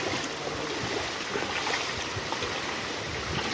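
Floodwater covers the streets of Chattogram after days of rain, with a rickshaw wading through it; water swishes and splashes steadily at close range alongside a low churning rumble, with no voices.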